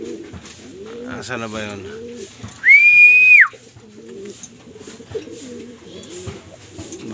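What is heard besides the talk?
racing pigeons cooing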